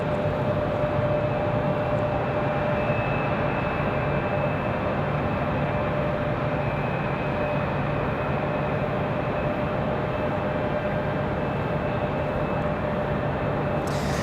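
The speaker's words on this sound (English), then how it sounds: "We should have that FedEx ATR." A FedEx ATR turboprop arriving at Raleigh-Durham airport, a loud continuous engine drone with steady tonal hum, holding even throughout with no voices.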